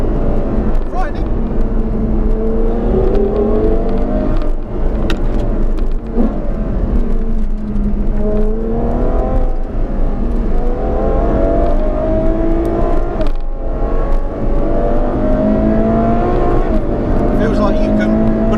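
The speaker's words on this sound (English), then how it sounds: "see what it's like to drive an F12 quite quickly" A Ferrari F12 TDF driven flat out on narrow country lanes, its engine loudly climbing through the revs, dropping on each upshift and rising again in repeated surging waves.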